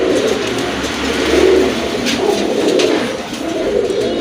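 Sky-coloured breeding pigeon gives low, soft coos close by, a continuous murmuring drone with a few swells, over steady background noise.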